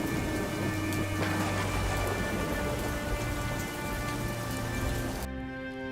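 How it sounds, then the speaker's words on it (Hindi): Steady rain pours on a surface as a sound effect in a narrated Hindi story, a dense even hiss with a low rumble, cutting off near the end. "लेकिन रास्ते में बारिश शुरू हो गई।"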